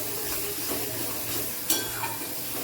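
Ground spices, including Kashmiri chilli powder, sizzle and fry in oil for aloo dum, with soft stirring scrapes and a brief clink of a utensil against the pan, close and steady.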